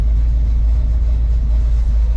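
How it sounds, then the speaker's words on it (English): A vehicle engine idling steadily after a cooling system upgrade, a loud, close, even low rumble with no revving. "we've been idling for a little bit now"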